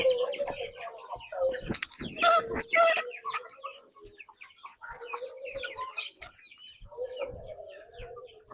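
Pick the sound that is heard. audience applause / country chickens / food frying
country chickens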